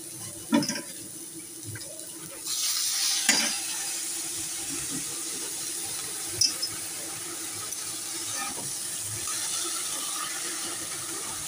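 Eggplant and greens drop into a hot pan and start frying, a soft steady sizzle with a few clanks and stirring knocks, fairly close and quiet.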